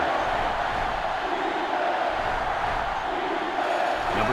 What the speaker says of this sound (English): this crowd is going absolutely insane